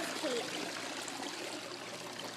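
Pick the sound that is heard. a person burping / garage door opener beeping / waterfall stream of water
waterfall stream of water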